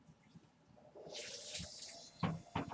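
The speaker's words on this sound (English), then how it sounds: "The water is now making noise." A small amount of water in a kettle starts to heat, giving a faint hiss that rises for a moment. Soft knocks and clatter follow near the end.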